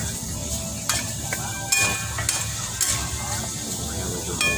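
Steady sizzling of pork belly frying in a pan for curry, with a few clinks and scrapes of a utensil stirring and a faint voice underneath.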